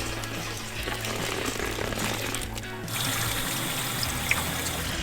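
Water flushing through an RV hot water heater after a white vinegar treatment, a steady close trickling and pouring rush that carries on without a break and with no talk.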